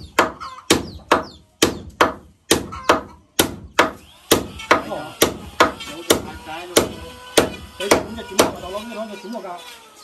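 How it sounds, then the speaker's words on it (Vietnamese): A hammer drives nails into wooden house wall boards in a steady run of loud, evenly spaced blows, close up, with some talk faintly underneath. "cái này lấy đinh 5 đóng là vừa đây"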